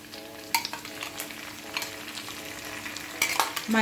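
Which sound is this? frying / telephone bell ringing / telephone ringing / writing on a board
frying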